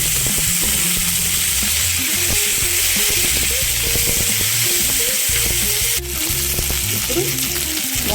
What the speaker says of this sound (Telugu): కొద్దిగా కరివేపాకు వేసుకుందాం